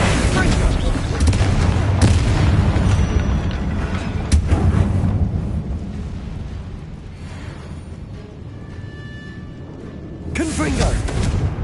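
Confringo explosive spells cast in the video game Hogwarts Legacy, a loud continuous barrage of booming blasts and rumbling impacts that eases off midway before surging again near the end, with a voice speaking over it.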